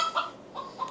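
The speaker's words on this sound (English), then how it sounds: "there's a rooster outside enjoying this episode" A rooster clucks a few short times outdoors in the countryside of Kahalu, faint and distant, with no other sounds around it.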